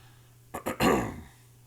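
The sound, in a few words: coughing and throat clearing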